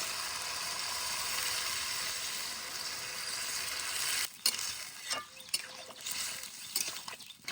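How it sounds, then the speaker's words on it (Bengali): Bottle gourd and potato fry in a pan in a village kitchen. A steady, moderately loud sizzle gives way to uneven bursts of stirring and clattering near the end, with no talking. "আলুর সঙ্গে লাউ দিয়ে 4-5 মিনিট একটু ভেজে নিলাম।"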